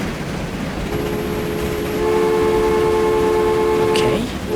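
A train passes in the railway simulation game Transport Fever 2 on a UK line, with a steady rolling rumble and a sustained horn tone partway through, heard fairly close with no talking.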